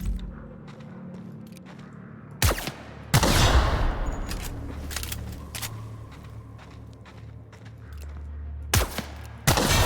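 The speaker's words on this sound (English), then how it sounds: "Oh yeah, it's the bolter pistol." A bolter pistol fires in The Outer Worlds: a few loud, sharp shots arrive at irregular intervals, one trailing a longer rumbling blast. Between them, quieter game sounds and low ambience carry on.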